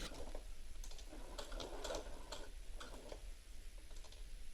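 A sewing machine stitches around a welt pocket with a short stitch length, a quiet rapid ticking run in short bursts against a steady background hum.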